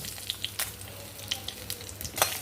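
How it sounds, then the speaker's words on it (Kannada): Whole cinnamon, cardamom and black peppercorns dry-roast in a pan for a brinjal vangi bath, giving light scattered crackles and ticks as the spices are stirred, close and fairly quiet, with no talking. "ಚಕ್ಕೆ ಒಂದು ಐದಾರು ಏಲಕ್ಕಿ ಒಂದು ಕಾಳು ಮೆಣಸು ಇದಿಷ್ಟನ್ನು ಫಸ್ಟ್ ಹುರ್ಕೊಂಬ"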